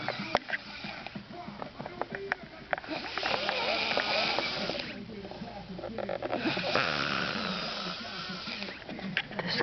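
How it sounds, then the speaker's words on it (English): A drunk woman snores heavily, loud rasping breaths swelling in two long, slow cycles, close by, with faint other sounds around. "smashed on the door, and now she's snoring."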